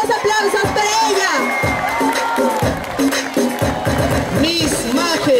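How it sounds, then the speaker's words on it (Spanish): A crowd cheers and applauds a newly crowned pageant queen at a town event in El Pedregal, Majes, Arequipa, Peru. The roar is loud and continuous, with whoops and voices layered over it. "¡Fuerte los aplausos para ella!"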